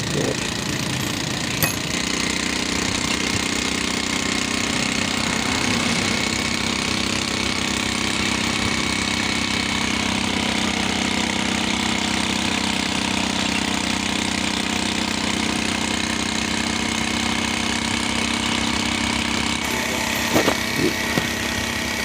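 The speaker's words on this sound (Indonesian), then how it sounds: "Nah, beginilah kondisi sepeda motor saya ketika menuju dari OTW dari Pekanbaru" An old, worn motorcycle engine runs continuously for the whole stretch, a loud rough mechanical drone on a road trip from Dumai toward Aceh, with a brief clunk near the start and end.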